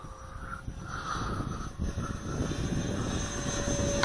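A FreeWing ME 262 radio-controlled model jet roars steadily as it lifts off a short runway and flies, with a constant high whine over broad rushing noise that holds loud and even throughout.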